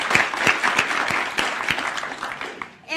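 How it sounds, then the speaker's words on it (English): Audience applause fills a forum on sustainable business at NYU Stern: dense, steady clapping from a crowd, close and fairly loud, running the full length before stopping abruptly. "Just a round of applause for them."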